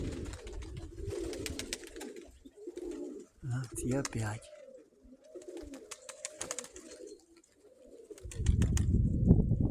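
Pigeons coo in soft repeated bursts close by, kept shut for a month and then let out, as someone talks among them; a louder rushing, fluttering noise swells near the end.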